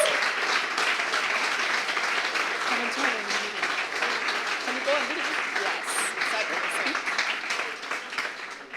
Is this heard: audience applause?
yes